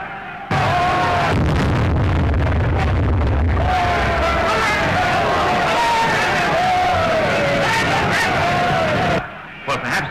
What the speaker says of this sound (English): The crowd outside are in a terrible state of excitement.